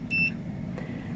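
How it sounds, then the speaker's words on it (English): A short high electronic beep from a multimeter's continuity tester while troubleshooting a switch on a 1962 United Embassy shuffle alley machine, one clear tone, then a faint second chirp in a quiet room. "trusty meter, that's got a continuity beep on it,"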